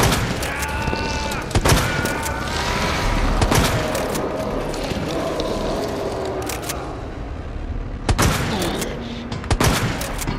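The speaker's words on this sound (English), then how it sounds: "Oh, that was a grenade." A grenade blast in the video game Resident Evil 2 sounds amid busy in-game noise, with sharp bangs at several points and a louder burst near the end.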